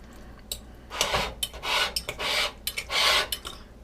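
Steak and mushrooms get stirred in a pan: a spatula scrapes and rubs in several short strokes with light clinks, close and fairly loud.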